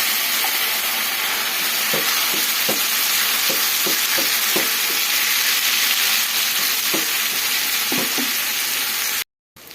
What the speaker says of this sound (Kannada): ಈ ಥರ ಕಡಿಮೆ ಉರಿಯಲ್ಲಿ ಚೆನ್ನಾಗಿ ಸ್ವಲ್ಪ ಫ್ರೈ ಮಾಡ್ಕೊಳ್ಳೋಣ